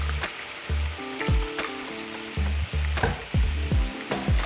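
Sauce with ginger, garlic, soy sauce, salt and pepper sizzles loudly in a pan while being stirred quickly, a continuous close hiss with scraping movements and no voices.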